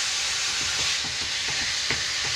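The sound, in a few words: seasoned ground beef sizzling in a pan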